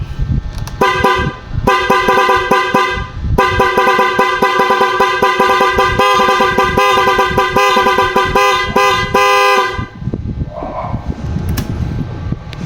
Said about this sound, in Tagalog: Try natin magbusina.